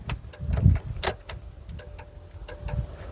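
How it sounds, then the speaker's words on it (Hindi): Turn indicator ticking on a 2022 Bajaj Atul Rik CNG BS6 auto rickshaw, a faint, regular series of soft clicks roughly every half second, close by under light background noise. "आप इंडिकेटर की जो आवाज़ है वो सुन पा रहे होंगे"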